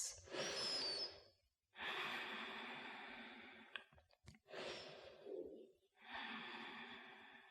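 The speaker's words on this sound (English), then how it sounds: "So we'll take 5 steady breaths." Slow, steady breaths during a vinyasa yoga flow, with four long airy exhales and inhales separated by brief pauses, close and fairly soft.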